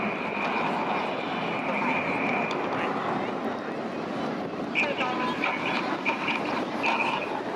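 RAF Red Arrows jets roar through a flying display at Airwaves Portrush, a steady loud engine drone with whining tones, heard under a public-address commentator talking throughout.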